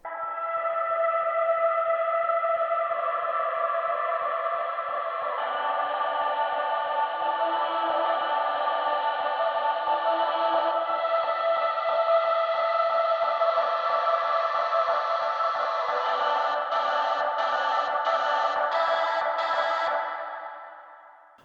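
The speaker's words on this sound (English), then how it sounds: "It's very ethereal, really angelic, and I like where it sits." Ethereal, angelic vocal chorus within a song, sustained airy harmonies washing along steadily with heavy reverb and echo for about twenty seconds, ending in a short fade.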